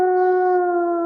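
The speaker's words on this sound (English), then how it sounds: "the iconic Wolf Howling" A sustained wolf howl, the iconic call played as a tribute for a cryptozoologist, holds one steady pitch with harmonic overtones for about a second, loud and clear with no talk over it.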